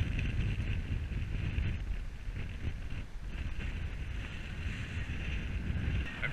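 Steady wind gusting across the ocean surf during a November bass fishing outing, a continuous loud rush with buffeting microphone noise and a low rumble throughout, no talking.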